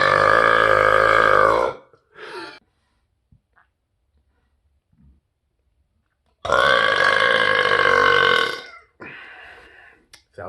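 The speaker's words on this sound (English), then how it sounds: "But that was a great burp." Two long, loud, tonal burps separated by near silence, each followed by a short exhale or grunt, close and dry with no talking over them.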